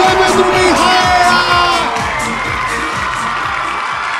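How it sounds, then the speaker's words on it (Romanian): Television studio audience at a Romanian reality show cheering and whooping for Mihaela, loud mixed shouts and excited voices with clapping underneath, strongest at the start and easing off slightly. "Aplauze pentru Mihaela!"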